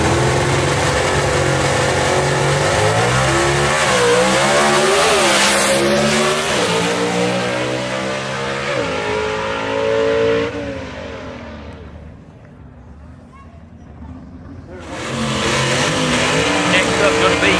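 A 1958 Ford Del Rey gasser drag car revs hard at a dragway, its loud engine roaring and pulsing close by for about ten seconds, then easing off before a brief lull and a return of engine noise; a voice talks over the roar.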